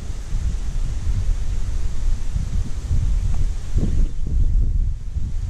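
Wind gusts buffet the microphone outdoors beside a river during fishing, a loud low rumbling rush that swells and eases throughout.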